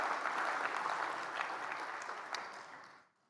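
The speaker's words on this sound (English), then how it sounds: "Oh, don't clap for that." Applause from a live audience at a Parkinson's disease discussion summit, a dense steady patter of many hands that holds for about three seconds before tapering off abruptly at the end.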